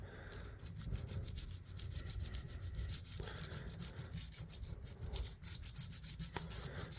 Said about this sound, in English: Just a straight emery board.